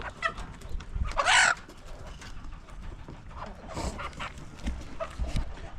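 Chickens on a farm give soft, faint clucks and scattered calls, with one brief louder squawk and other bird sounds nearby.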